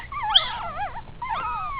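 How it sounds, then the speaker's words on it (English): A young puppy whimpers and yips in high, wavering cries while being held still for dew claw removal, two close whining bursts with no talk over them. "So Kaylee, you hold the puppy still, and you can do it with your fingernail."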